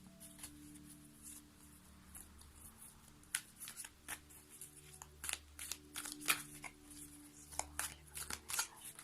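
Oracle cards are shuffled by hand for a card reading, giving soft papery riffles and flicks close to the microphone. They are quiet at first and grow busier and louder toward the end, with no talk.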